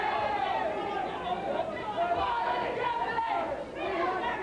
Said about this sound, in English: the Irish contingent cheering Billy Walsh on